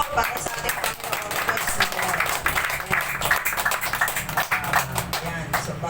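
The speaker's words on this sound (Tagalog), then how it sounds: "Isang malakas na palakpak po para sa ating Panginoon." A church congregation claps in praise during worship, a steady crackling wash of many hands filling the room, with speech audible through it.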